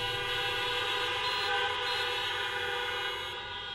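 Crowd members at a lecture sound their horns in a loud, steady, continuous chorus of honking that holds for nearly four seconds before easing off slightly at the end.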